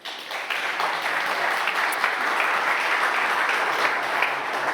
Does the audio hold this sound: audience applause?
yes